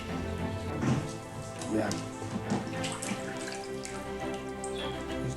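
Bananas splashed and sloshed by hand in a basin of clean water, steady wet swishing and dripping with a few louder splashes, close by, under a person's voice.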